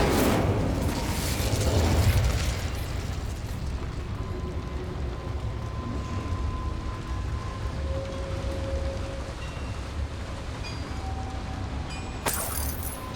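Spell blasts from Confringo and Incendio in Hogwarts Legacy make a loud, continuous fiery roar with a heavy burst at the start and a sharp crack near the end.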